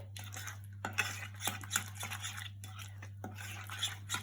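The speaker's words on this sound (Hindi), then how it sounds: "और अब ये सबको हम अच्छे से मिक्स कर लेंगे" A spoon stirs a yogurt-based paneer tikka marinade in a bowl, making soft repeated scraping and clinking strokes close by over a steady low hum.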